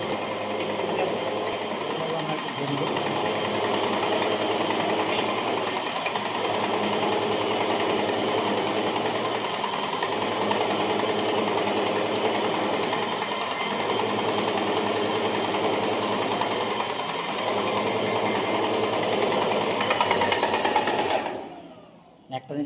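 A Graco GX19 airless paint sprayer runs continuously with a loud, steady mechanical drone and faint periodic pulsing, stopping abruptly near the end.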